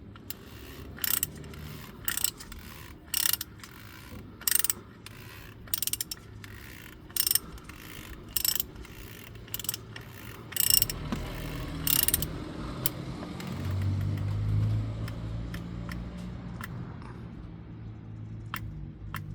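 Ratchet tightening a new oil filter on a Vauxhall Insignia 1.6 CDTI, clicking in a steady series of short, close bursts, followed by a scraping, rumbling turn near the end; no voices.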